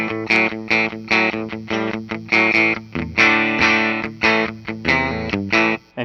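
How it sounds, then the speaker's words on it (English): A 1971 Gibson Les Paul electric guitar is played without distortion, a run of bright, ringing picked chords and single notes in a steady rhythm, loud and close with no talking. "So here's a reminder of what it sounds like without distortion."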